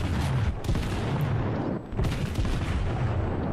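Battleship main guns firing in the naval combat game World of Warships, dense booming salvos with rumbling low-end blasts and crackling impacts that run continuously and loud throughout.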